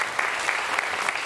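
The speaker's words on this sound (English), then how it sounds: "Round of applause" Audience applause at a Frank Turner & The Sleeping Souls panel discussion, a short steady burst of many hands clapping with no voices over it.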